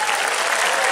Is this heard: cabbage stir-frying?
no